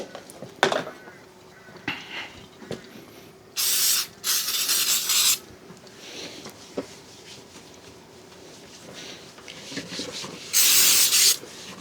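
Rags wiping brake and parts cleaner off a car fender in a garage, heard as repeated bursts of loud scrubbing and spray-like rubbing separated by quieter handling noises.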